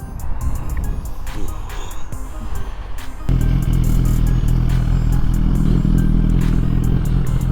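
A Suzuki GSX-R1000 sport motorcycle being ridden, its engine droning steadily before stepping up to a louder, fuller roar partway through, with wind buffeting and clattering noise close to the microphone.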